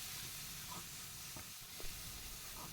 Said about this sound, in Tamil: எண்ணெயிலேயே இந்த மசாலா பொரிஞ்சு வரட்டும்